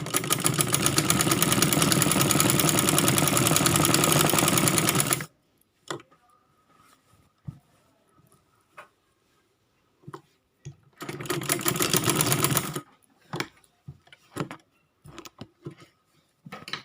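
A sewing machine stitches an A-line kurti in two bursts: a steady five-second run, a pause filled with faint handling clicks, then a shorter run of about two seconds, followed by more scattered taps.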